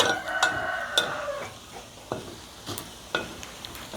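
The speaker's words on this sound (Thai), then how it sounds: "หลังจากนั้นเราก็มาทอดรอบที่สองค่ะ" Pork rinds sizzle in hot oil during their second frying, a steady crackling hiss with scattered sharp pops and a few clinks of a utensil against the pan, with no one talking.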